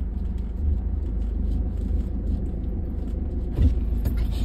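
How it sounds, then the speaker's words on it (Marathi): A car rolling forward at low speed during a driving lesson, heard from inside as a steady low engine and road rumble, with a faint clunk near the end and no talk. "आता पुढे चालली गाडी."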